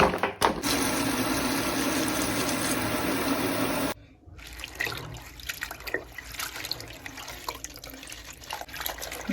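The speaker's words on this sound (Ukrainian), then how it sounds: "мию шпинат, буду морозити на млинці і на пироги на зиму" Tap water runs hard into a sink while spinach is washed: a loud, steady gush that cuts off after about four seconds, followed by wet splashing, dripping and the rustle of leaves being handled.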